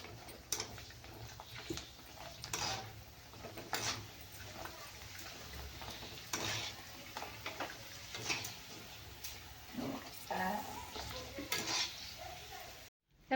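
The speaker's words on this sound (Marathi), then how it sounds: "भरपूर पुऱ्या पुऱ्या मी तळणार आहे" Puris deep-frying in hot oil for pani puri, a steady crackling sizzle running throughout with occasional clinks of a utensil against the pan, ending abruptly.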